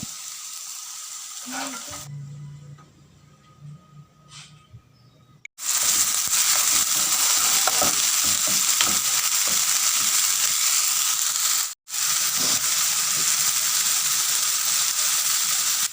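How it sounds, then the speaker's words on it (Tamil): Marinated chicken pieces sauté in hot oil in a pan, first quiet scraping and clinks, then a loud continuous sizzle that cuts out briefly once before roaring on, close and steady. "நாங்கள் மேரினேட் பண்ணி வச்ச சிக்கன் பீசஸை இதில் வந்து சேர்த்து கொஞ்சம் இதை வந்து வதக்கிக்கொள்ள வேணும்"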